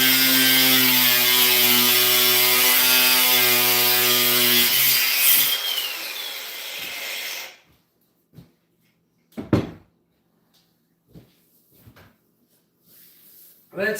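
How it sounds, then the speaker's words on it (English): An angle grinder cuts through plastic trim while fitting crooked cabinets, a loud close whine with a strong tonal pitch lasting about seven seconds before stopping, followed by scattered knocks and handling clatter. "You really smell the plastic when you're cutting that with a grinder"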